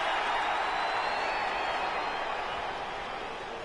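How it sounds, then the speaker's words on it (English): A crowd in the WWE 2K19 wrestling video game gives off a continuous, hissy buzz that holds steady and then slowly fades. "You hear the tone change, the crowd electrified, buzzing."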